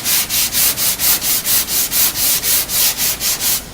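Rhythmic back-and-forth hand sanding of glazing filler on a car body, a loud close scratchy rasp pulsing in quick even strokes, about four per second, with no talking.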